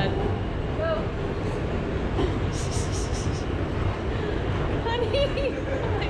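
A subway car rumbles along the tracks in a steady, loud roar that fills the whole span, with faint squeals and some voices mixed into the noise.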